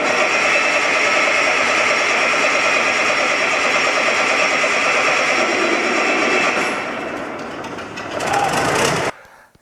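Diesel engine running inverted at high RPM with a valve cover on top, a loud steady buzzing roar that holds up close, then drops and fades toward the end before a brief surge and a sudden cutoff.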